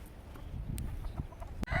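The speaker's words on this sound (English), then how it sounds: "That old rooster." An old rooster on a farm gives short clucking calls and a brief crow, fairly close by, with faint background noise and no speech.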